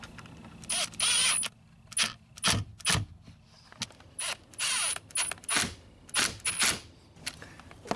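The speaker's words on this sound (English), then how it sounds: "now we'll go ahead and tighten both bolts up." Bolts being tightened on a Honda Accord glove box hinge with a ratchet, a run of short mechanical clicking bursts close by, each a second or less, with brief pauses between.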